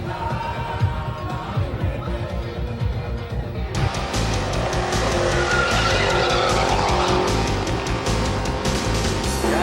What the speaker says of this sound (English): look at that, a big heavy car and making enormous smoke